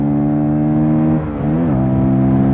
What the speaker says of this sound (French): Ah, c'est un moteur aussi, un mono là qui prend des tours, hein.